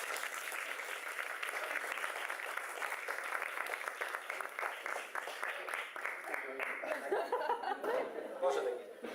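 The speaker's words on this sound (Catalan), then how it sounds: "Pablo es mereix un aplaudiment" A small audience at a gastronomy-and-poetry gathering gives Pablo a round of applause, steady clapping of moderate loudness that thins out toward the end, with a few voices and light laughter mixed in.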